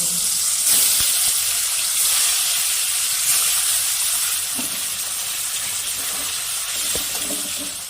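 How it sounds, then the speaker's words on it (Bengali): Fish fries in a pan of hot oil, giving a steady close sizzle and hiss with small crackles throughout and no voices. "বাকি মাছগুলো আমি এইভাবে ভেজে নেব"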